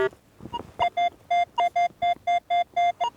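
A handheld metal detector sweeping a farm field for coins gives a string of about ten evenly spaced, clean electronic beeps, loud and close, with a faint earlier tone and scuffing before the pulses settle into rhythm.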